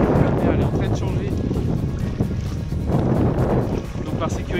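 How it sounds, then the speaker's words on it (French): Strong wind blows across the sea during a kayak outing, a loud, steady buffeting rush on the microphone with water movement beneath, while a person talks throughout. "là, comme prévu, il y a le vent qui est monté"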